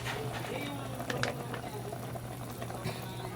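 Coconut milk pours into eel adobo cooking in a pan, giving a steady bubbling, liquid wash with a low hum beneath and a few brief clinks, close and moderately loud.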